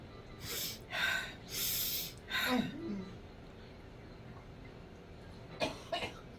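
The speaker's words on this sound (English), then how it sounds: "Cough." A person coughs a few times in quick bursts, close by, followed by quiet and then two brief softer coughs near the end.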